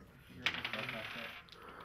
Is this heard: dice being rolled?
yes